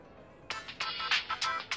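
A telephone in a teen animated series rings with a bright electronic ringtone in several short chirping bursts, close and clear, without voices over it.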